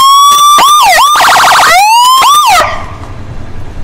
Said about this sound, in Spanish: Verificamos que la sirena prenda